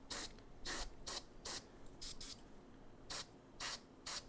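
An airbrush sprays paint in short, repeated bursts of sharp hiss, about nine puffs separated by brief pauses, close and fairly loud, with no talk.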